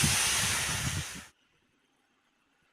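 Milk poured onto ghee-fried vermicelli for mango payasam: a loud, close rushing pour that runs steadily for about a second, then cuts off sharply into near silence.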